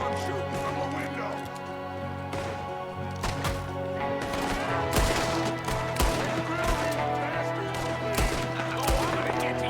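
Rapid gunfire in Red Dead Redemption 2, a shootout against a gunman firing from a window: loud, sharp cracks in irregular bursts and volleys close by, continuing throughout while a voice shouts over the shots.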